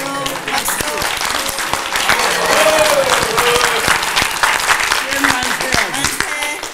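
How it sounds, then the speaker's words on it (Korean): A crowd at a church gathering claps in sustained applause, loud and dense for several seconds, under voices calling out. "네 신편아 박수."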